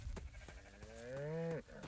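A cow in the video game Rising World lets out a single drawn-out moo that rises and holds for about a second before cutting off. It is clear and close, with no talking over it.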